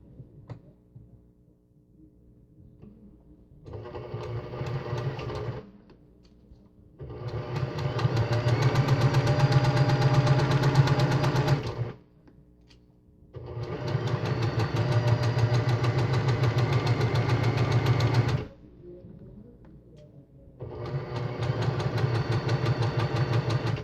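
A sewing machine stitching a quilt block runs in several long, steady whirring bursts of a few seconds each, separated by brief quiet pauses, with a low motor hum underneath.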